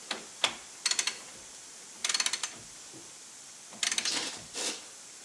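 A torque wrench is set to 30 foot-pounds and tightened on a wheel hub of a 2005 Suburban, giving short bursts of sharp metallic ratcheting clicks in quick clusters, close and fairly quiet.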